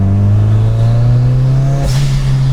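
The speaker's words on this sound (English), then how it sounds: "I have fixed the blow-off valve." Turbocharged project car with a repaired blow-off valve: a steady, close engine drone runs throughout, then a short sharp hissing whoosh of venting air cuts in near the end as the engine note drops.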